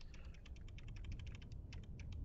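Computer keyboard keys are pressed in a quick, irregular series of light clicks, about twenty taps with short pauses, quiet and close over a low background hum.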